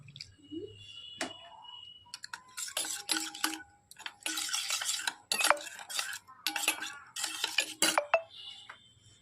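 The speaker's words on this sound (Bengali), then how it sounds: "হলুদ গুঁড়ো, জিরা গুঁড়ো আর কাশ্মীরি লঙ্কা গুঁড়ো, একসাথে মিশিয়ে নেব অল্প জল দিয়ে" A spoon stirs turmeric, cumin and Kashmiri chili powder with a little water in a bowl, giving repeated bursts of clinking and scraping with short quiet gaps between strokes.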